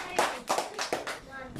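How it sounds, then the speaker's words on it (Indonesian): A primary class in a Sabah, Malaysia school gives a short rhythmic round of claps, several distinct bursts in a patterned beat at moderate volume. "Berikan tepukan"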